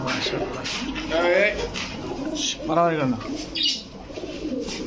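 Pigeons, Pakistani Teddy and Saharanpuri breeds, cooing in a loft, with a couple of soft rising coo phrases heard up close beneath someone talking almost continuously.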